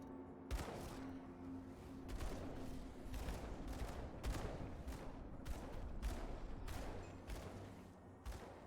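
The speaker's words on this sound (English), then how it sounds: "we just did 500 damage on an explosion." Repeated explosions in the Grim Dawn video game, a hardcore acid witch-hunter run, loud broad bursts arriving in a rapid irregular series over constant dense game noise.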